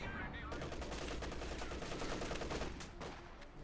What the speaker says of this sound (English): Machine gun making short work of the sappers there.